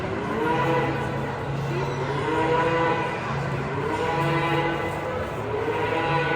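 Cattle low in long, drawn-out moos at the Alaska state fair, several calls overlapping loudly and close by against a steady background hum.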